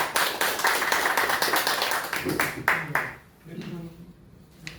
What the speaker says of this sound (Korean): 역시 박수로 맞이해주시면 감사하겠습니다